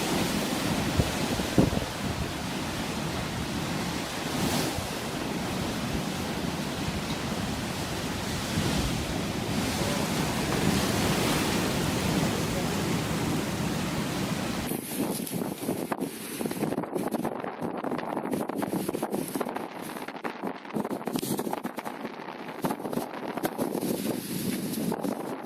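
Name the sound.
rough sea waves crashing over a pier in North Yorkshire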